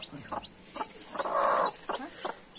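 A farmyard hen clucks in short repeated calls near her newly hatched chicks, close and fairly soft, with one longer drawn-out cluck in the middle.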